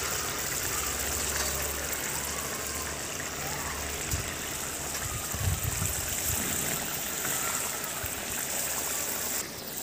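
Bhetki fish curry bubbles in a pan with a steady, dense simmering hiss and scattered gurgles, fairly close and continuous throughout.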